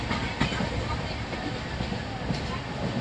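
Onboard the Samta Express with a new ICF coach, the train runs with a steady rumbling roar and faint rhythmic clicks of wheels over rail joints, close and continuous.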